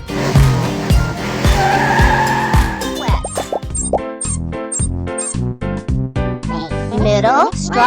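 A race car skids with sharp tire squeals in quick repeated bursts, loud and close, followed by rapid clicking, tonal effects in a bright cartoon style.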